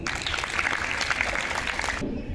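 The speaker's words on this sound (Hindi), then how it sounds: "एक बार जोरदार ताली" Schoolchildren give a loud round of applause during a magic show at a school, a thick burst of many hands clapping that stops abruptly partway through.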